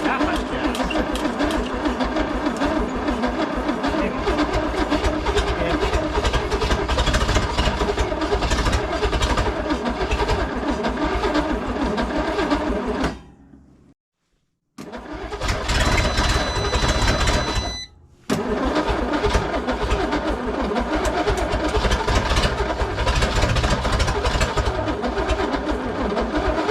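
A Studebaker Wagonaire engine being revived runs loud and close, revving repeatedly, then cuts out briefly twice before roaring back to life.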